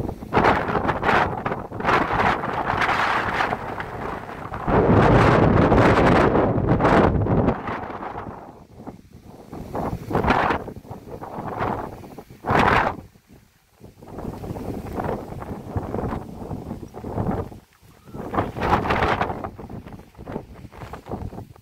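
Strong gusts of wind on Mt. Batulao, Batangas, roar and buffet the microphone, rising and falling in loud surges with brief quieter lulls.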